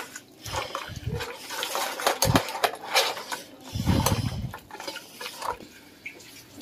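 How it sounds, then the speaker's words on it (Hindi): Water is poured bit by bit into soaked tamarind pulp while it is squeezed for chutney, giving irregular splashes and wet squelching bursts with short pauses between them and no talk. "अब पानी डाल के इसमें थोड़ा थोड़ा इस तरीके से पानी डाल के निकालेंगे"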